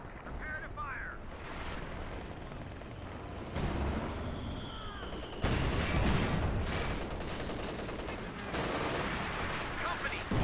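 Artillery and small-arms fire in Company of Heroes 2, a steady rumbling battle bed with heavier booms landing partway through and a louder surge later, voices faintly audible under the combat.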